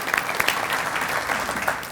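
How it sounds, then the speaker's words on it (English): Audience applause for FFA students at a Rooster Booster Breakfast in Owensboro: a steady, dense clatter of many hands clapping together throughout, fairly close and even in volume. "Would you all stand up and let us give you an applause?"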